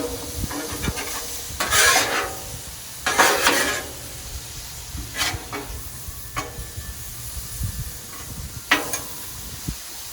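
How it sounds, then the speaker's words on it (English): Beef steak sears on a Blackstone flat-top griddle for hibachi, a steady close sizzle broken by several louder hissing bursts and scraping stirs, with no talking. "Our beef is cooking away here real quick."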